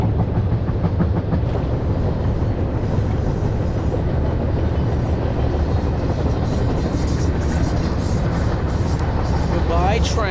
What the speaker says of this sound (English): Goodbye, train.